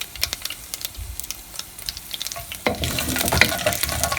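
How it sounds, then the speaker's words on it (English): Red chilies frying in a tamarind mixture in a pan, with light scattered tapping and stirring at first, then the sizzle swelling suddenly and staying louder and denser to the end. "we are going to add couple of red chilies because we want it to cook in the tamarind again"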